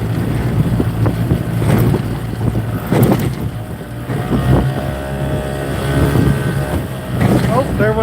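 An outboard fishing boat motor drones loudly through choppy waves, with wind buffeting the microphone and thumps as the hull slaps water and the motor strikes a floating log.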